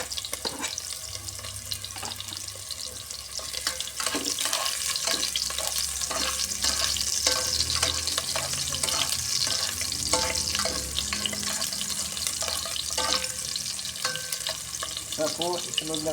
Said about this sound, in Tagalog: Tayo muna natin mag-brown yung bawang. Tapos isusunod po ang ating sibuyas.